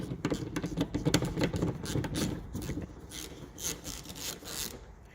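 A T25 Torx bolt holding the rear bumper of a VW Tiguan Mk2 to the body is undone, with close rasping, ratchety scraping strokes that ease into lighter, sparser clicks.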